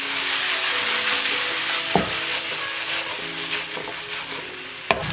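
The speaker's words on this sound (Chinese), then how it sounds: "加一点玉米粒儿，再翻炒一下。" Rice and corn kernels being stir-fried in a pan, a steady hiss of frying with spatula scrapes and a couple of sharp clacks against the pan, with no voices.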